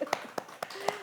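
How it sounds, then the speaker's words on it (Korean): A church congregation claps in unison, four sharp, evenly spaced claps in quick succession with a faint voice in the background. "이럴 때 박수"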